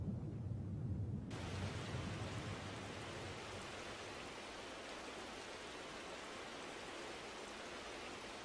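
Steady rain pours over African grassland at the start of the rainy season, a dense, even hiss of falling drops that stays constant throughout with no voices.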